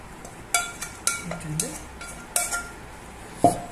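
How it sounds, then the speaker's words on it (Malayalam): Chicken-vegetable kurma is transferred from a pan into a serving dish, with sharp metallic clinks and scrapes of a spoon against cookware at irregular intervals, close and fairly quiet beneath someone talking. "സർവിംഗ് ഡിഷിലേക്ക് മാറ്റി കൊടുക്കുന്നു, ഒഴിച്ചു കൊടുക്കുന്നു"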